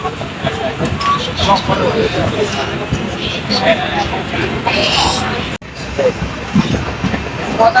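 A passenger train runs along the rails toward Jogendranagar station, a steady rumbling clatter heard from on board, with people talking throughout and a brief cut before the rolling noise resumes.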